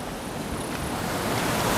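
Water from a waterfall pours steadily into a stream below, giving a close, continuous broadband rush with no pauses and no voices.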